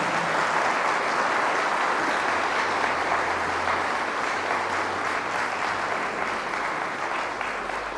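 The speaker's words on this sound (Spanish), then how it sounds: "Fuertes aplausos al Señor por su amor y su misericordia." A church congregation claps together during a Spanish-language Catholic service, producing a full, steady roar of applause that holds at an even, loud level throughout.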